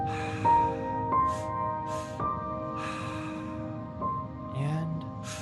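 Slow, deep breaths drawn in and let out during a guided breathing exercise, soft airy rushes recurring every second or so over a steady drone of sustained background music tones.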